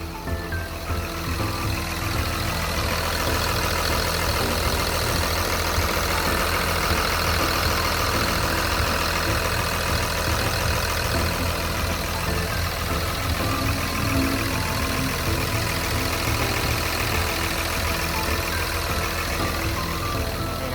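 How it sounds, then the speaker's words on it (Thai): The diesel engine of a Komatsu WA320-6 wheel loader idles steadily and loudly throughout, a dense continuous rumble with a mechanical clatter, close by. "เสียงเครื่องการทำงานของเครื่องยนต์ของเขาเนี่ย"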